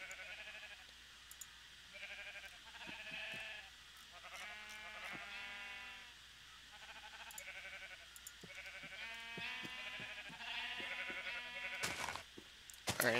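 Sheep in Minecraft bleat in a series of short, wavering calls spaced across the stretch, faint and close, with a brief clattering burst near the end.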